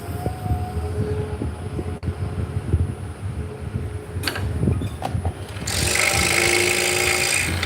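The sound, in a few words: scroll saw cutting 5/8 inch cherry wood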